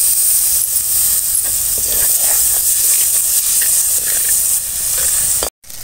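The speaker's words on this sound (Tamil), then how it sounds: "100 மில்லி இப்போ 100 மில்லி தண்ணி உள்ளே ஊற்றிக்கலாம்." Water, 100 ml of it, goes into hot spiced masala in a pan and sets off a loud, continuous steamy hiss and sizzle that holds steady for several seconds before cutting off abruptly.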